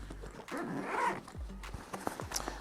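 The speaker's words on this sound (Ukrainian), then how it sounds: "Також зручна молнія з двох сторін, непогана якість." A zipper on a Flagman spinning bag for fishing is pulled in one quick, close rasping stroke, followed by a few soft handling clicks and rustles.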